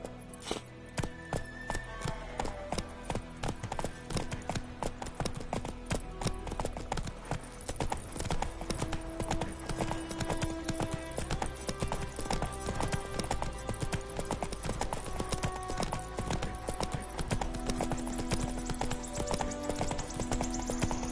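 Galloping horse hooves in The Witcher III on PS5, a steady fast clip-clop rhythm running the whole time, loud and close with game music and ambience underneath.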